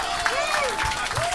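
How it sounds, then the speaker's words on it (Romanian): Audience applause at a stand-up comedy show at the Comedy Store in London, a steady wash of clapping while a voice speaks over it with rising and falling tones. "Aplauze pentru el."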